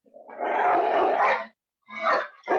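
Pet dogs growl and bark up close: one long, rough growl followed by two short, sharp barks, loud and alone.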